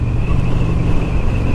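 A 2008 Honda Shadow 750 motorcycle cruises in third gear, a steady low engine rumble buried under loud, constant wind buffeting the microphone.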